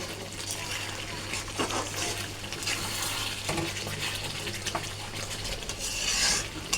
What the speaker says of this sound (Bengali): আস্তে করে চিকেনটা কষতে হবে।